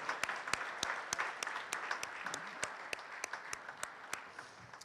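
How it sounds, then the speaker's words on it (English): Sparse applause from a modest audience at a city inauguration ceremony, with distinct individual claps ringing out over a softer spread of clapping, fairly quiet and steady for about five seconds. "How about a round of applause for the families of the elected officials tonight?"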